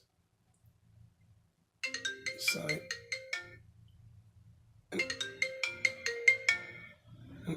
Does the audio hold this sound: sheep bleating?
no